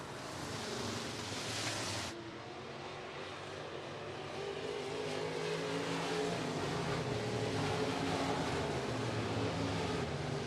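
Stock cars race around the dirt oval at Buena Vista Raceway, engines droning and revving continuously at a moderate distance, the roar swelling slightly as the field passes.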